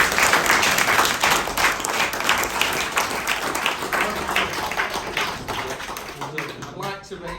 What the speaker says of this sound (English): all the applause